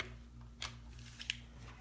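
Scissors snipping through a fabric strap for a sewn wristlet, two quick crisp cuts at close range in a quiet room.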